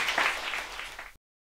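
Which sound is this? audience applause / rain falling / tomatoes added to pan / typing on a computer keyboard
audience applause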